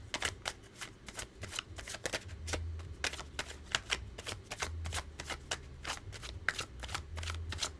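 Tarot cards being shuffled by hand, a steady run of crisp riffling flicks repeating close up and fairly loud, with no talk over them.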